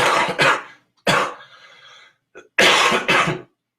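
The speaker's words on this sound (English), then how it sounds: "Cough into your arm." A person coughs into their arm, with three loud, harsh bursts: a double cough, a single cough, then another double cough, separated by brief near-silent gaps and a faint throat sound.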